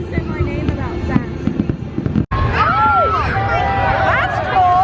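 Fireworks at a large outdoor public display pop and crackle, with whistling and screeching shells rising, heard over crowd chatter and nearby talking voices.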